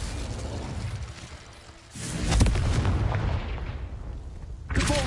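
Confringo spell explosion in the video game Hogwarts Legacy: a loud booming blast that lands about two seconds in and rumbles on, with a second burst near the end.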